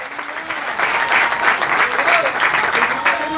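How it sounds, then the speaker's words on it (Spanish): A church congregation claps loudly and steadily for several seconds, filling a large room. Voices can be heard under the applause. "Den un fuerte aplauso al Rey de Reyes."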